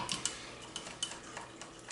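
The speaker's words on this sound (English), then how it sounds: "I'm just stirring that up." A spoon stirring warmed raw natural honey, liquefied in a microwave, in a bowl, giving faint repeated clinks and taps against the dish in a quiet kitchen.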